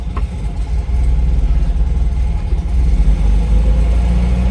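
A classic Fiat 500 engine runs loud and close with an awful mechanical noise, a rough steady drone with pulsing idle rhythm that swells slightly as it revs.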